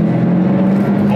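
A Jaguar F-Type R accelerating hard, heard as a loud, steady engine drone from inside the car with a strong low tone held throughout the short moment.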